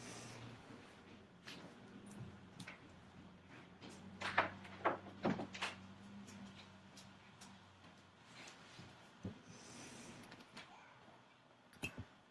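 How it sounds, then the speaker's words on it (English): A room door is pulled shut, giving a few soft knocks and a muffled thud around the middle. The sound is faint and sits in a quiet indoor space with light rustling. "I gotta close the door"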